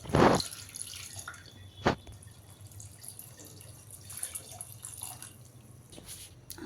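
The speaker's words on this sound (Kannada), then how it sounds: "ನೀರೆಲ್ಲ ಆ್ಯಡ್ ಮಾಡ್ಕೊತಾ ಇದ್ದೀನಿ" Water is added to a pot of washed potatoes and legumes for masala sambar. It comes as faint trickles and drips with one louder splash at the start and another midway.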